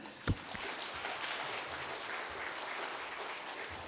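A church congregation at an afternoon praise service claps to welcome the pastor, a soft, fairly distant spread of many hands that begins after one sharp knock and stays even and low throughout.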